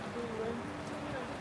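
Rain falls steadily during a tropical storm at a resort savannah overlook, a faint, even hiss with light pattering under nearby voices.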